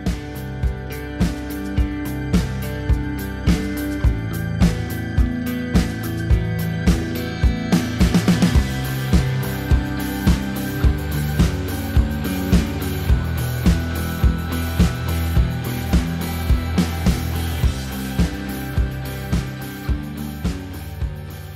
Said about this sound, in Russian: Давайте какие-нибудь свечи повтыкиваем сюда.